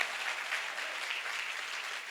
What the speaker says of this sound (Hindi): एक बार उसकी आवाज के लिए जोरदार तालियां